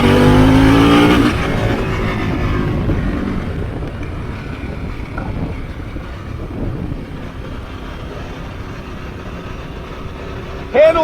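A Harley-Davidson Pan America 2021 motorcycle engine revs hard in a rising pitch as it accelerates, then settles into a steady rumble under heavy wind noise.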